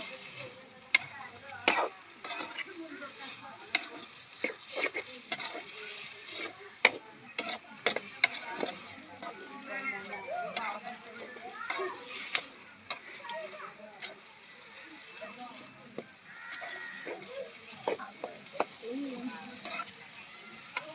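Meat cooking in a pan is stirred with a utensil, giving scattered clinks and scrapes over a soft steady sizzle, with a voice talking at times in the background.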